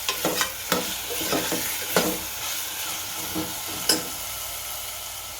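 Ingredients sautéing in hot oil for Kathiyawadi vaghareli khichdi give a constant close sizzle, broken by a few sharp clicks of a spoon stirring against the pan.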